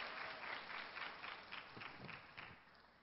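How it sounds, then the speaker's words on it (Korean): A church high-school youth congregation claps together in sustained, even applause that stays steady before tapering slightly toward the end. "우리 박수로 크게 격려해 주시길 바랍니다."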